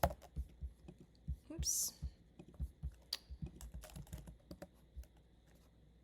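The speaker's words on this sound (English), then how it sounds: "I could also just type. If I know I want a CBC, I'll type." Computer keyboard typing while placing test orders in a medical simulation program, a run of quick close clicks and taps with a brief spoken exclamation partway through.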